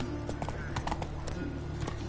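Roach the horse clip-clops in a video game, a rapid, close run of hoofbeats over a low steady hum, with no one talking.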